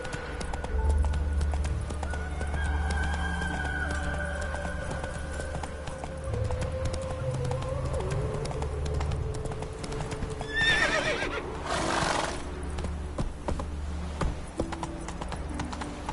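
Horse hooves clip-clop steadily at a walking pace and a horse gives a loud whinny partway through, heard with faint background ambience.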